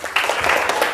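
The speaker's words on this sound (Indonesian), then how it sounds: "Tepuk tangan dulu untuk kelompok 1." A classroom group claps together in a steady, dense burst of applause for a student group, close and fairly loud, filling the whole moment without talk.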